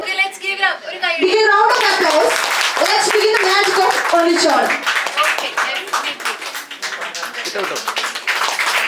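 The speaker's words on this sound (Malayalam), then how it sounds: "ആ ഒരു ടീമിനൊരു വലിയൊരു കൈയടി" An audience applauds a team, starting with a few claps under a speaking voice and swelling into dense, loud, continuous clapping that tapers slightly toward the end.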